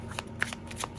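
Tarot cards are shuffled by hand in quick, soft riffling bursts, close and fairly quiet over a light background hum.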